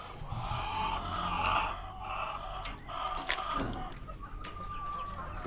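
Several chickens cluck and murmur in a steady, busy stream, with occasional sharper squawks rising above the flock's chatter.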